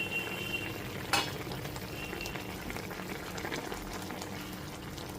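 Okra and potato curry simmering in a covered pot over a medium gas flame, a steady soft bubbling and hiss with a brief clink near the start, continuous and fairly quiet throughout.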